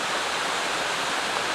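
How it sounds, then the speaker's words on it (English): A waterfall in the Nant Y Ffrith valley, seen through trees, gives a steady broadband rushing roar that is loud and unbroken, with no voices. "Just through the trees there is the last of the waterfalls"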